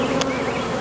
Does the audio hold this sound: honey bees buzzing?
yes